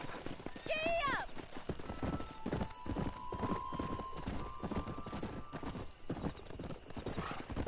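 Horse hooves clip-clop in a quick galloping rhythm, joined early by a loud whinny, with people talking over the hoofbeats and a faint tonal sound in the background.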